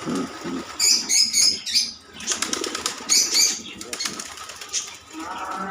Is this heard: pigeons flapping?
yes